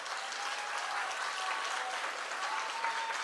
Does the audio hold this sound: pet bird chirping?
no